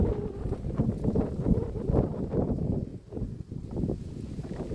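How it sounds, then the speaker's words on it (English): Steady wind blows outdoors across a garden among trees, buffeting the microphone in low gusty rumbles that rise and fall throughout, with no talking. "It's constantly windy here."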